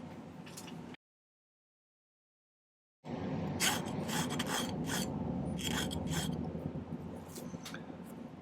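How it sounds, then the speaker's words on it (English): A hand file rasps across the tops of silver rings to flatten them at a jeweler's bench. The strokes are close and steady and rhythmic, resuming after a short silent gap, with no talk. "I'm just filing the tops of all of these flat a little bit"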